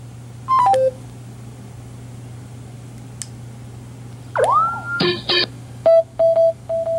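A SHABA VS 25 Bluetooth speaker plays its power-on and pairing cue. A short run of falling electronic tones comes first, then a sliding sweep, then bright chirps and a row of evenly spaced beeps over a faint steady hum.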